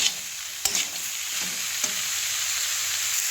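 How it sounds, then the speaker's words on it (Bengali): Cabbage and pumpkin pieces frying in a pan for a mixed-vegetable labra, after aubergine, beans and potatoes, give a constant close hiss and sizzle, with a few sharp scrapes of stirring scattered through, and no voices. "এবার বাঁধাকপি ও কুমড়োগুলি একটু ভেজে নেব"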